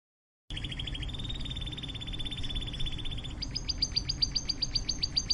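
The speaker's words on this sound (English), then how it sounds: "Canary." A canary sings a continuous high, bright warbling song of rapid repeated trills, shifting into sharper pulsed chirps partway through, steady and fairly close with no voices.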